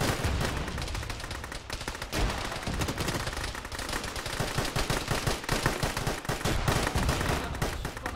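Sustained gunfire from the Arma military shooter, rapid overlapping rifle and machine-gun bursts firing almost continuously, loud and dense throughout with no pauses.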